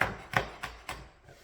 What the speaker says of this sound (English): I just like little chunks like that.